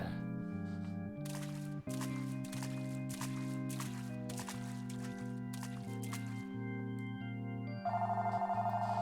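A telephone rings in the game Final Fantasy XIV, a steady electronic trill repeating in short bursts over a sustained synth music bed, with a brighter chime entering near the end.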